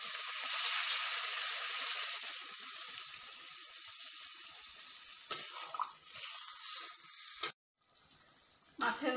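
Water poured into a pan of fried fish heads sets off a loud, steady sizzling hiss that carries on for several seconds before cutting out abruptly, then resuming briefly.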